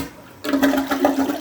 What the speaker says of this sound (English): You want to flush the toilets.